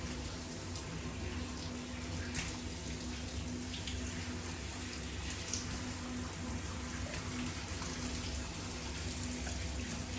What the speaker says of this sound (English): And I always rinse from the top downwards.